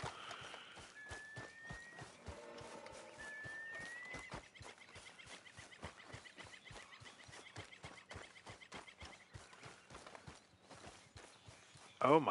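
Hooves clop steadily in Red Dead Redemption 2, with regular hoofbeats running through the whole stretch, a horse call rising near the end, and a voice talking over them.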